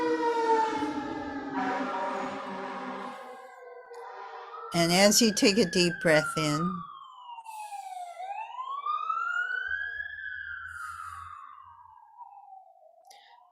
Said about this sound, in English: you can probably hear the sirens here at my house